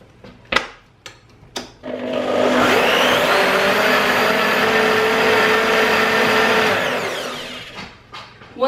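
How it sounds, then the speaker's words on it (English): A hand blender blitzes tomato and lentil soup, a loud continuous motor whir holding steady for about six seconds, framed by a few sharp clunks against the pot before and after. "So I'm going to blitz it, and you can either use a hand blender or a stand blender,"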